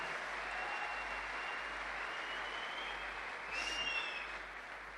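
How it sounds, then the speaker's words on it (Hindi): An audience at a stage event claps steadily in a sustained round of applause, with a few high whistles cutting through near the end as the clapping fades slightly. "िस्टर योगेश कुमार यादव और मिस्टर पवन यादव जी के लिए जोरदार तालियां बताइए।"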